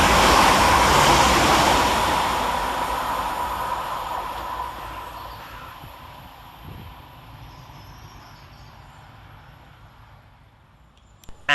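Class 323 train 323-225 races through Goostrey station toward Crewe, a loud broadband rush that peaks at once and then fades steadily over several seconds, ending in a short knock.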